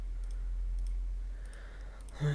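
A computer mouse gives a few faint, light clicks at irregular intervals during a Windows troubleshooting session, quiet against a low background hum.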